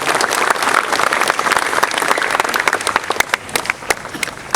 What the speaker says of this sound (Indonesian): marilah kita beri aplaus kepada Bapak Ibu Dewan Guru yang telah melaksanakan tugas dengan sangat baik